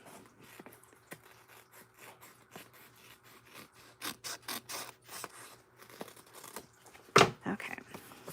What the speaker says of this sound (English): Yep, I'm going to trim around.